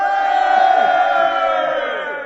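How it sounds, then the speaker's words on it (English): A crowd bursts into a loud, sustained cheer and roar lasting about two seconds, a dense wall of many voices that swells early and then tapers slightly, heard on its own. "An outburst of cheering."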